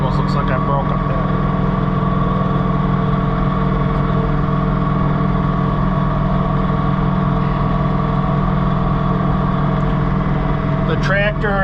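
A John Deere 3046R compact tractor runs steadily at high RPM while snow blowing, a loud continuous engine drone with a strong low hum that holds level throughout, close to the listener.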